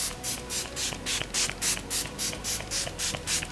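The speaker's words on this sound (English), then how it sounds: "I'm going to be taking my Infallible Magic Setting Spray from L'Oreal." L'Oreal Infallible Magic Setting Spray is pumped in a rapid series of about a dozen short, even hissing bursts, close and steady, with no talk.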